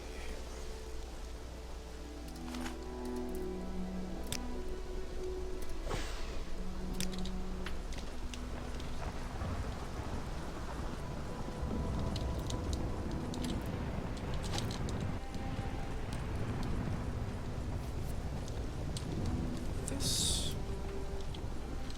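Steady rain falls in the video game Legacy of Laevus, a dense even hiss with scattered clicks and drops, running throughout beneath soft tonal music and faint game sounds.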